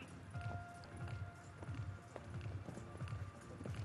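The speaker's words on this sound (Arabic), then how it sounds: "الثنائي جنتلمان، حصان اسمه جنتلمان" Horse hooves clip-clop at a steady repeating rhythm on the special sand footing of an international youth show jumping arena, loud and close, with faint background voices.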